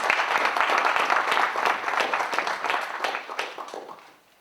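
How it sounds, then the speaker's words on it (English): An audience applauds at the close of a panel discussion on democracy in Central and Southern Africa, brisk clapping with audible individual hand strikes that stays strong, then thins and fades out near the end. "ask you to join me in applauding"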